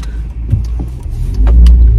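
A car's engine rumbles steadily from inside the cabin during a short drive across to another car park, a low droning hum that swells louder in the final half-second.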